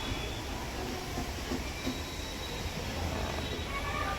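A metro train passes near a metro station at night, making a steady, continuous rumble with a faint metallic whine, heard at a moderate distance with no break in the sound.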